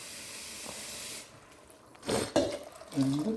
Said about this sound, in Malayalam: ഇതിലോട്ട് ഒരു 6 ഗ്ലാസ് വെള്ളം ഒഴിക്കണം.